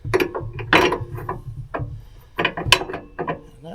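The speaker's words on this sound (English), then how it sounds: "Lo and behold, I do have 15/16 long reach wrench." A 15/16 long-reach wrench loosens a bolt on an Onan 5500 RV generator: close, crisp metallic clicking comes in several short bursts with brief pauses between.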